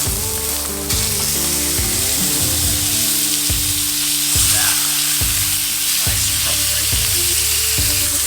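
Wagyu steak sizzles steadily as it sears in a cast iron skillet, a loud, continuous crackling fry heard close up, with a faint tonal hum running underneath.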